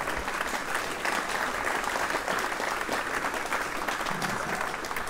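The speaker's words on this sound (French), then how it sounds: "Bravo, applaudissements pour eux encore s'il vous plaît." Steady applause from a crowd at a sailing race prize-giving ceremony, dense and continuous clapping at an even level throughout.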